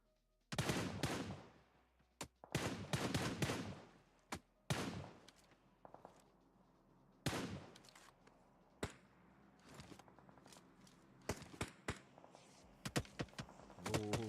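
Gunfire trading between teams in a video game tournament match: sharp single shots and short rapid bursts, some loud and close, others quieter, separated by brief pauses.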